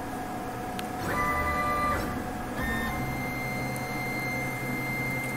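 A Crossfire Pro CNC plasma table moves its gantry during a dry run, giving steady motor whirring with shifting electronic whine tones that start and stop, fairly quiet, with no talking.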